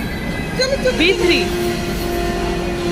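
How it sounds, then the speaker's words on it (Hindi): A train pulls into a station, steady rumble with brief squealing wheels and metallic whines, close by and loud, while people talk over it. "आ गया ट्रेन आ गया"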